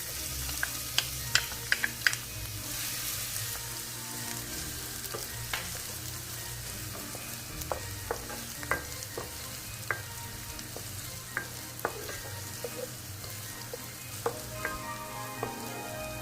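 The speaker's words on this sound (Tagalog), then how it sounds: "Kapag mainit na ang mantika, igisa na natin ang onions." Onions sautéing in hot Virginia sunflower cooking oil give a steady, close sizzle and crackle, with scattered sharp pops and occasional stirring scrapes throughout.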